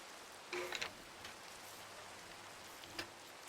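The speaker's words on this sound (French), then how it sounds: "Ok, il pleut, c'est génial." Steady rain falling in a video game, a faint even hiss throughout with a couple of brief louder blips over it.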